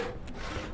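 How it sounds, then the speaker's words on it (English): Villager sawing planks in the video game Noble Legacy, a brief rasping, scraping stroke that sits low in the mix under steady background ambience. "We can hear our Alma sawing away there, getting us some planks"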